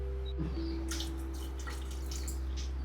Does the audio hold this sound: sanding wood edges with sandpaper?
no